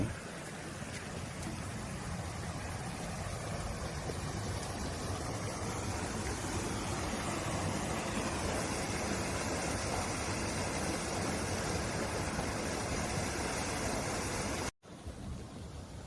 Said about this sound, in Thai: แล้วก็น้ำก็จะไหลไปตามซอกหินนะครับ